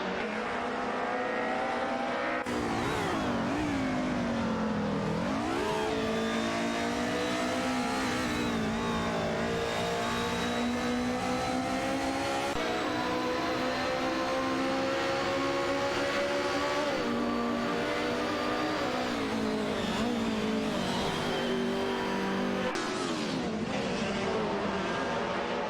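Race cars accelerate and rev hard throughout, engine pitch climbing and dropping through gear changes, loud and continuous with faint commentary underneath.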